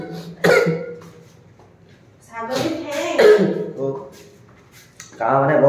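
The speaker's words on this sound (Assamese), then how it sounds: "কাহ মানে বৰ গেহেৰা কাহ হৈছে" A person with a heavy, harsh cough gives several sharp, close coughs separated by pauses. Some bursts sound like throat-clearing, with no talk around them.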